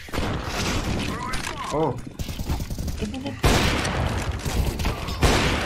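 Bursts of gunfire from an online shooter game crackle in rapid volleys, with a player's voices talking and exclaiming over the shots.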